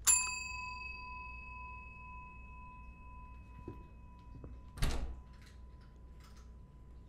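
A bell rings once in a horror video game, a clear metallic ding with a long sustained ringing tone that slowly fades over several seconds, followed later by a brief rustle and soft scattered clicks in a quiet room.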